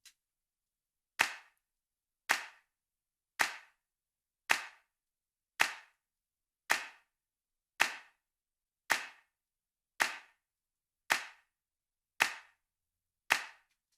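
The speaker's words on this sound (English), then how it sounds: "And this is the reverb with EQ." A dry, punchy hand clap sample drenched in EQ-shaped reverb repeats twelve times at a steady pace of about one per second, each hit sharp and followed by a short, clean decaying tail, with silence between.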